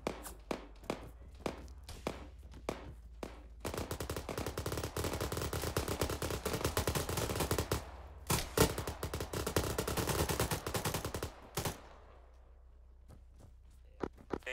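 ArmA 3 gunfire: sporadic single shots give way to long sustained bursts of automatic fire, loud and close, then pause before more scattered shots.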